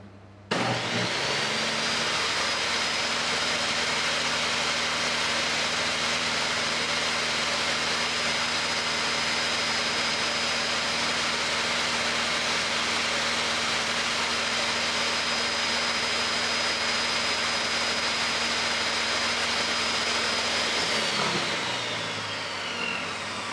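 A table saw motor runs with no wood being fed. It spins up at the start into a loud, steady whining hum that holds for about twenty seconds, then winds down, with no voices.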